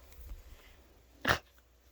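A pet dog outdoors in the early morning gives a single short, sharp vocal burst, like a sneeze or snort, fairly close, against quiet background with faint low rumble.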